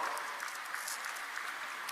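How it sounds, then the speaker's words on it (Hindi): An audience gives sustained applause welcoming an award recipient at a ceremony with the state chief minister presenting, a dense, even patter of many hands heard from a distance, faint and steady throughout. "तालियों से स्वागत करेंगे श्री आयुष भदौरिया जी का"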